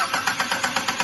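A Citroën Xsara Picasso with an acceleration fault cranks at its start, the starter churning in fast, even pulses about eight times a second, close and loud with no voices.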